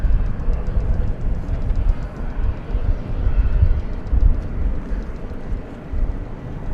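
An ABX cargo jet flying for DHL passes over Dallas Fort Worth airport at night, a broad, rumbling engine roar that swells and fades steadily over several seconds with no nearby talk.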